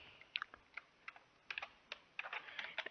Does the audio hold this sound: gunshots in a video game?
no